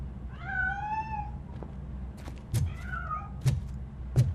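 A cat in the RoboCop: Rogue City video game meows twice, drawn-out and fairly close, separated by soft thumps and clatters as it hides and slips away; no voices.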